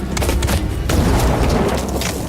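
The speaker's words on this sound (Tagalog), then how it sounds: "Malakas na sumabog yun." A loud booming explosion in a narrated horror story about aswang, a heavy low rumble after a burst of crackling debris, sustained and close.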